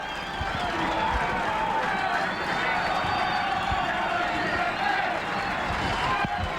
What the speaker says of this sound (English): And the crowd are alive at Derwent Park.